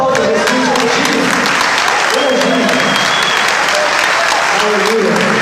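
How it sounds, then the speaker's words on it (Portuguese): A church congregation claps loudly and steadily during a worship service, a dense wash of applause from the gathered crowd, with a preacher's voice speaking over it. "Dê uma aplauso a Jesus."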